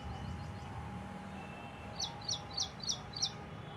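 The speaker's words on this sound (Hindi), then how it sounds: "चिड़िया आ गई है और वो आपको अपना गाना सुना रही लगातार, खूब बोल रही।" A small bird singing in trees outdoors, a quick series of five faint, high chirps toward the end, heard at a distance over a steady background hum.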